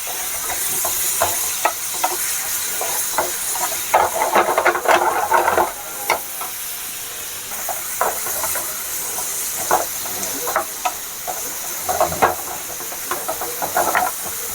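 About four finely chopped green chillies frying in a pan for Bihari litti chokha, with a steady close sizzle and hiss and repeated stirring scrapes throughout, no talking.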